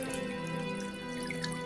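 AISITIN solar water fountain spraying through many thin holes, a steady close splashing and trickling of water with a faint tonal hum from the pump.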